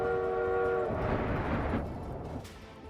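A large train in Tropico sounds a sustained horn chord and then rumbles on with a low rolling roar that gradually fades, with no talking.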